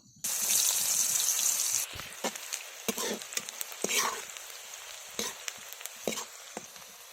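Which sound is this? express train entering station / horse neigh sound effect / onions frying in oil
onions frying in oil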